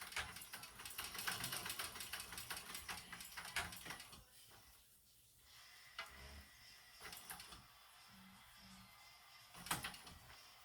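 Sewing machine running in short bursts while top stitching the long edges of a fabric clutch at one-eighth inch, a quiet, busy whirring that stops and restarts with faint handling noises.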